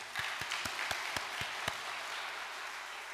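A church congregation claps in thanks, heard as about seven sharp, evenly spaced claps over a steady hum of room noise, then fading out.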